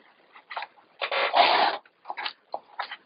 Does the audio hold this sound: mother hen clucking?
no